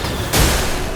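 A skill explosion in the video game Clair Obscur: Expedition 33, a single sudden loud burst that cuts in sharply and rumbles briefly before fading into the game's background sound.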